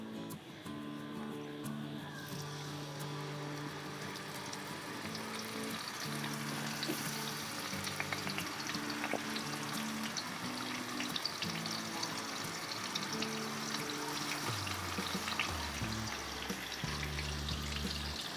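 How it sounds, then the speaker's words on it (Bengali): Pangas fish fries in hot oil on a medium-low flame, giving a continuous crackling sizzle that runs evenly beneath background music. "মাছটাকে এখন আমি ভাজার জন্য তেলের মধ্যে দিয়ে দিচ্ছি।"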